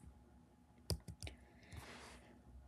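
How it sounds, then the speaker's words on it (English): A computer mouse clicks a few times in quick succession, sharp and faint against a quiet room hum, followed by a softer rustle. "you're going to click yes"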